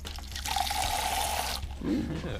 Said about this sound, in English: We've got a garden pressure sprayer.